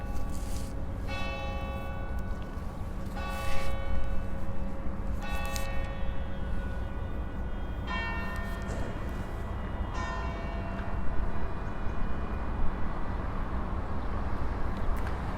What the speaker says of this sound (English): So that was the 6:30 bell here at the Franciscan Church.